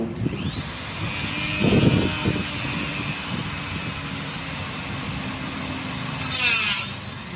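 Angle grinder cutting through a metal ring, a steady whining grind with a sustained high tone through most of the stretch, plus a couple of louder bursts near the start and again near the end, with no talk over it.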